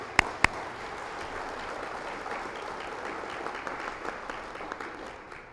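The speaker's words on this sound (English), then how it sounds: "Give yourselves a round of applause." Audience applause at a disability services information session, opening with two sharp loud claps then settling into a steady, even patter of many hands that tapers off at the end.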